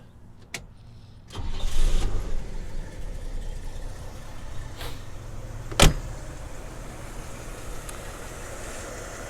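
A 1959 Pontiac engine cranks and catches after a click or two, then settles into a steady, rumbling idle with a sharp knock midway, heard close and alone.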